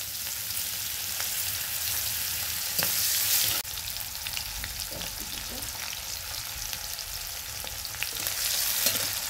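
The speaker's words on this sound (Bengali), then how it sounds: "তেজপাতা দিয়ে, যে বাকি যে পেঁয়াজ কুচিটা ছিল ফোড়নে দিয়ে দেবো" Bay leaf, dried red chilli and chopped onion hit hot oil with cumin seeds, a steady loud sizzle and crackle with occasional stirring scrapes throughout.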